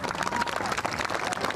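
Golf gallery at a women's major championship applauding a shot, a steady patter of clapping from a crowd that runs loud and unbroken through the whole moment.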